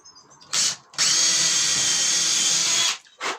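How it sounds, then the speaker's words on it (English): A power drill boring a 6mm hole, partway in, for a bow saw whirs in a brief burst, then runs steadily for about two seconds before stopping, followed by another short burst; close and loud. "I'm going to put a 6mm hole through each one of these. I've got the drill bit here."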